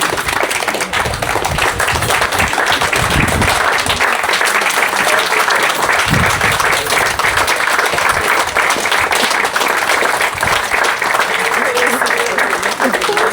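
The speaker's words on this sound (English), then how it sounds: "if persons can stand and give Nurse Shama a round of applause" An audience at a nurses' recognition cocktail event gives a nurse a round of applause: dense, steady clapping fills the whole stretch at close range, with voices mixed into the crowd noise.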